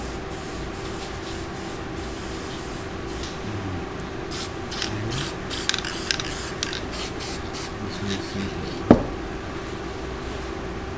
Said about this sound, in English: the archival spray bottle